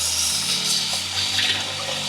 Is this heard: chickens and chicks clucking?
no